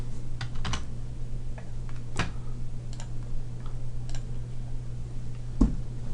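Sparse keystrokes on a computer keyboard while a PMT formula is entered into an Excel cell, with scattered clicks and taps over a steady low hum. Several isolated presses stand out, and no one speaks.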